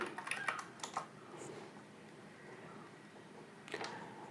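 Quick bursts of keystrokes on a computer keyboard, a few clustered taps early on, a pause, then another short flurry near the end.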